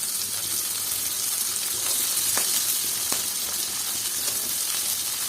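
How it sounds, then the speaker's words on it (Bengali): Mixed vegetables, including beans and carrots, fry together in a pan for homemade fried rice. A steady, close sizzle and hiss continues without break, with a couple of sharper crackles. "সবজিগুলো দেখুন ভাজা হচ্ছে।"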